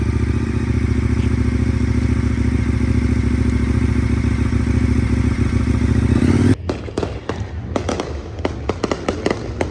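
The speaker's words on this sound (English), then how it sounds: "Got more fireworks." Fireworks go off at a motorcycle bike week, first under a steady, loud rumble of engines, then as sharp cracks and pops in an irregular burst once the rumble drops away.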